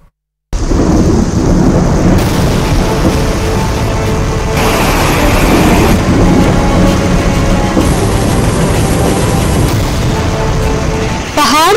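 Heavy monsoon rain pours loudly in the mountains, a dense constant roar with rolling thunder rumbling through it, close and unbroken for the whole stretch.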